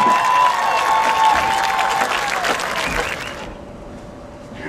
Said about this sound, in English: Ladies and gentlemen, a big round of applause for the Riverview High School Kiltie Band.